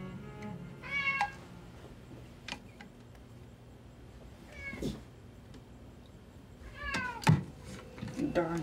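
A cat meows several times in close, clear cries, some drawn out and wavering, separated by pauses, with a person's voice heard between them.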